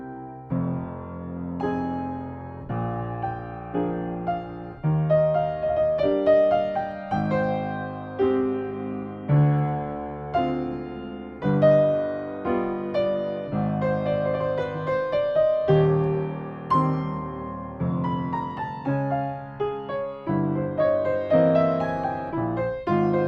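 Piano phrase from Chopin's Nocturne Op. 48 No. 1, played plainly with only notes and fingering, no added expression; a slow, continuous melodic line over sustained low chords, close and alone.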